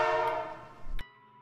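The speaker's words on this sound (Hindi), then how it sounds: "ट्रेन की दूर से हॉर्न की आवाज 2 बार आई" A train horn sounding from a distance, one sustained tonal blast that fades away, followed by a faint lingering hum.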